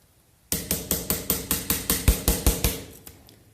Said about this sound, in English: Basically just using a hammer and a putty knife and gently tapping this corner up of the seal.